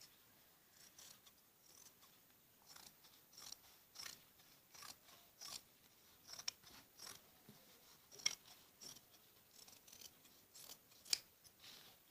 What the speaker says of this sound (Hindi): अब हमें जो ये एक्स्ट्रा कपड़ा है इसको काट लेना होता है।